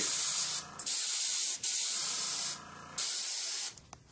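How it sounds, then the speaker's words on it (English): A spray nozzle hisses in several close bursts onto a scale model, each a few seconds long, separated by brief pauses of quiet. "I'll just spray on it"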